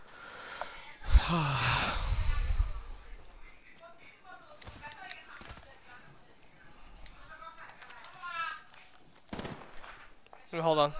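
Bursts of Longbow sniper gunfire in Apex Legends, a few sharp shots spaced across the stretch amid game effects and occasional talk.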